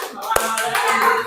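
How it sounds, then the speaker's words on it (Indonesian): One sharp hand clap rings out in a classroom song during a teaching session, landing as a single crisp hit among singing voices. "Kalau kau suka hati tepuk tunggal."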